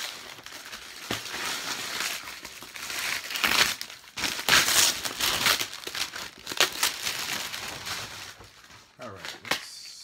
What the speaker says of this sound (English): let's just tear it up. Tear it open. I'm not gonna save the gift wrap.